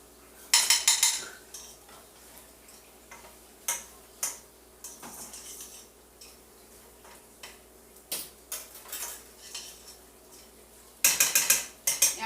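A spoon scrapes and clinks against a dish while stirring a green bean casserole mixture, scattered close ticks and taps with a few denser bursts of rapid clatter, no talking.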